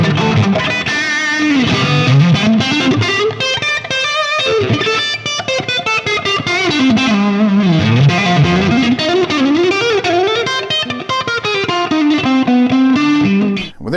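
An electric guitar runs through a tiny effects pedal, playing a continuous distorted, chorus-tinged melodic line with bending notes and sustained chords, loud and uninterrupted.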